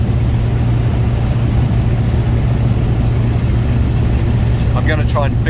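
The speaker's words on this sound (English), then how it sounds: "Yeah, car's running beautifully." A Morris 1100S car engine runs steadily at a constant drone, heard from inside the car while driving across the Australian outback, with a brief squeaky sound near the end.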